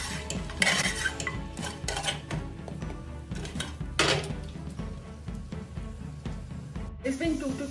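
Clanking of a metal pot and spoon as nalli nihari bone marrow is stirred and roasted with masala, busy and fairly loud kitchen clatter with scraping and knocks throughout.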